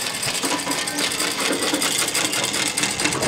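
A sewing machine set up outdoors by a Ugandan fashion designer runs in a fast, steady stitching clatter, loud and close, continuing unbroken with no voices over it.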